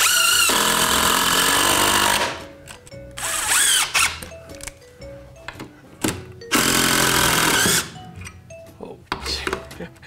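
A power drill drives a screw into a wooden bulkhead being built, with two long, loud whirring bursts separated by clattering handling noises and short quieter buzzes.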